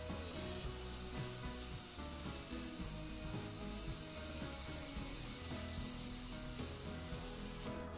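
An airbrush with a 0.5 mm needle sprays paint to add fine fur on a wolf design, giving a steady, close hiss that runs unbroken under a low hum for the whole stretch.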